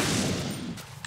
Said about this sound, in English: Do you think he's gonna hear the gunshot?